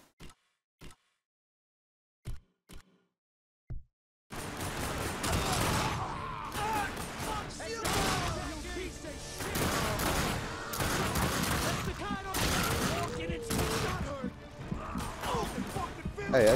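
Gunfire in The Darkness II begins with a few isolated sharp shots against silence, then erupts into sustained, loud rapid bursts mixed with crashes that carry on for several seconds.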